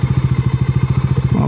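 A motorcycle engine chugs right at the mic during a short helmet-cam ride, its even, rapid firing pulses loud and steady with a slight change near the end.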